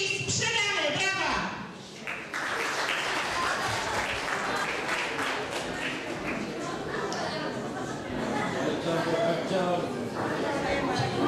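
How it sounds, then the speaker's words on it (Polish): A large audience applauds at a charity auction: loud, dense clapping keeps going nearly throughout, briefly dipping near the start, with faint crowd chatter mixed in. "Słuchajcie, wielkie brawa!"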